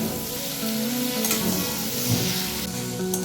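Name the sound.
frying onion and spice paste with tomato in a pan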